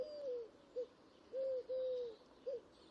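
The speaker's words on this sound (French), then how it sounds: "Il n'y a que la tourterelle voisine qui vient interrompre le silence qui meuble cette ambiance religieuse de ce havre de paix" A turtle dove coos nearby in a quiet Yorkshire churchyard, a few soft rising-and-falling calls repeated over a faint background hush.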